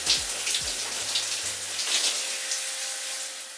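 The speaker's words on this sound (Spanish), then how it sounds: "retiramos la mascarilla con abundante agua" Running water rinses a hair mask out of curly hair, a steady rushing spray from a tap or shower. The flow holds even and close throughout with no voices.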